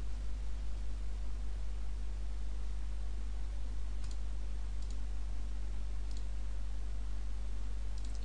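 A computer mouse clicks a few times at a desk during a software install on Ubuntu, short, sharp clicks spaced apart over a faint steady hum and background hiss.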